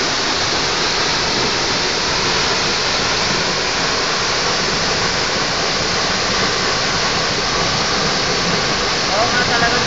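Aw Asen Falls roars in a loud, constant rush of falling water that stays even and unbroken for ten seconds.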